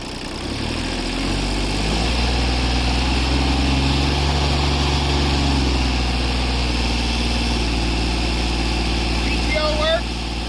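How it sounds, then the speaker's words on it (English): A Kubota tractor, a Japanese-market model, runs at a steady idle: a constant low engine drone with stable harmonics that holds close and even, ending with a brief higher squeal. "Starts right up on the first crank."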